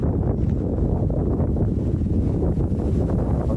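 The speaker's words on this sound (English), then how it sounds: "Right now listen to someone and it's windy." Wind blows hard across a microphone on a rainy outdoor walk, a steady low roaring rumble with gusty surges and no talking.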